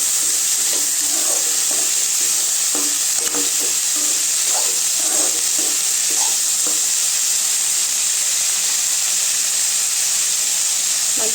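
Cabbage kootu being stirred and fried in a pan, a constant bright hiss and sizzle with scattered scraping clicks of a spoon against the pan, close and steady throughout without talk.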